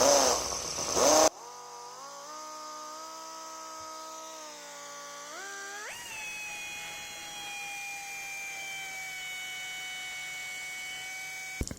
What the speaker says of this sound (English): I just bent a little piece of wire in my little air drill